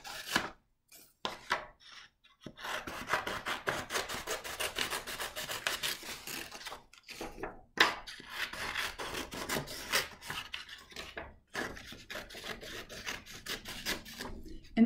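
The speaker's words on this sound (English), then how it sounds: "Another way to create a crown is just by cutting straight strips." Scissors cut straight paper strips for a crown craft, giving repeated close dry snips and rasping paper rubs in an irregular rhythm with short pauses between cuts.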